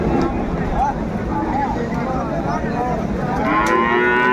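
Sahiwal bulls on a Dhaka cattle farm give repeated low, drawn-out moos close by, while people talk steadily over and between the calls.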